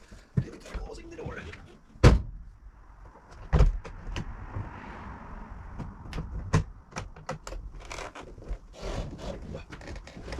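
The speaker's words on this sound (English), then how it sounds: "Closing the door." An Audi 80 car door shuts with a sharp thud, followed by a second firm clunk, amid rustling and handling sounds close by, while a person talks quietly throughout.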